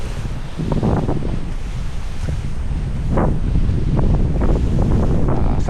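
Strong wind in the aftermath of Typhoon Uwan roars across the microphone outdoors, a loud, constant rush with repeated gusty swells and no talk.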